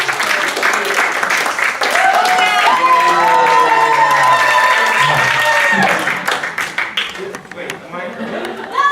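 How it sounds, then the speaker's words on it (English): Applause and cheering from an audience at a teacher in-service day, a loud sustained burst of clapping and voices that thins toward the end. "give a good round of applause to Teacher Randall James"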